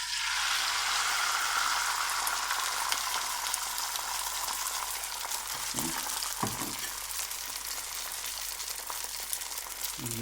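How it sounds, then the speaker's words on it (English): Eggs sizzle and crackle steadily in a frying pan over medium heat, a bright continuous hiss up close, with a couple of brief utensil knocks near the end. "right now we can put our eggs into our frying pan"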